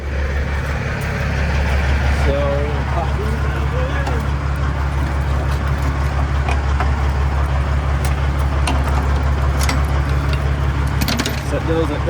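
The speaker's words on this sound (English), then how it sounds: "Then we're gonna fire up the yard goat" A yard goat terminal tractor engine idles with a steady low diesel rumble throughout, while someone talks over it and faint clinks and rattles sound nearby.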